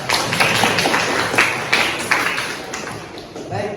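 A classroom audience claps after a group presentation, a dense patter of hand claps that holds steady for a few seconds and then thins out, with a voice speaking under it.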